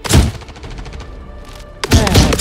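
Shots from a favorite gun in Star Citizen: loud close bursts at the start and end of the clip, with a quieter, muffled stretch of rapid firing between them.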